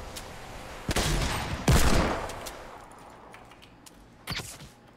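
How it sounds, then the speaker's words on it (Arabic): Gunfire in the Fortnite video game, with a sharp burst of shots followed by a heavier volley that fades, then a final short burst; loud and close, no talking. "هلا طلقات وراي انا."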